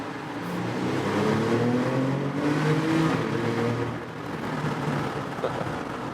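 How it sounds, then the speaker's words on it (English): A 2016 Porsche Cayenne GTS twin-turbo V6 in Sport Plus mode with active exhaust: a deep, rumbling engine and exhaust drone steadily for several seconds, rising and easing slightly, heard from inside the vehicle with some wind noise. "We can hear some of the sound going into the Sport Plus mode with the exhaust activating."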